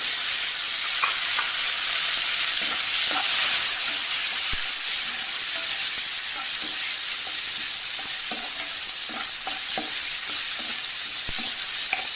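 Garlic and tomato pieces fry in a pan for a bottle gourd curry, giving a loud, steady, close sizzle with occasional clicks of stirring and no talking.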